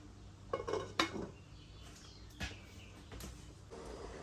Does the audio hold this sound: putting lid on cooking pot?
yes